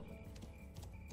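Horse hooves in the Black Desert Online video game, soft clip-clop steps trotting along quietly at a moderate distance, with no talking over them.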